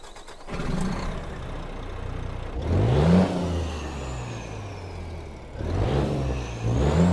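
A Renault truck engine in Euro Truck Simulator 2, fitted with a 725 HP engine and sound mod, cranks and starts, its rising whine settling into a steady diesel idle with a couple of revving swells.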